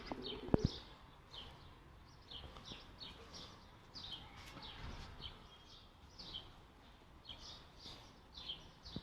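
Domestic pigeons near a backyard coop coo softly and repeatedly in short rising phrases, faint and slightly distant, with a sharp knock near the start and a quiet outdoor hush underneath.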